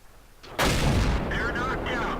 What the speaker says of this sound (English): And there's artillery.